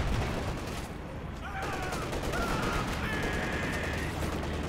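Gunfire in a Company of Heroes 2 battle, with a Panzer IV tank shot among bursts of small-arms fire, brief whistling tones, and a continuous battle din throughout.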